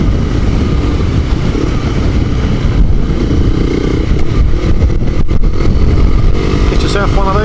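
A Honda CBR250R motorcycle riding along country lanes, a steady loud engine drone with heavy wind rush throughout, as a rider talks over it.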